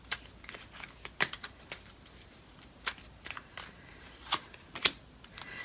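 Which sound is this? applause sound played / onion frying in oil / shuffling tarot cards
shuffling tarot cards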